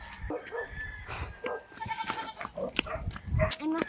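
A goat bleats several times in short, wavering cries at close range, mixed with rustling and a few voices in the background.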